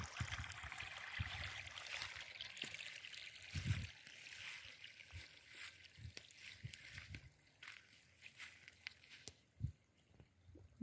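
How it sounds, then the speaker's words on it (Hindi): Water gurgles and trickles steadily as it flows into a rice paddy field outdoors, with a few soft splashes and knocks scattered through it at a moderate, fairly close level. "बहुत सुंदर लगे पूरा कुड़ू कुड़ू होगी पानी गले।"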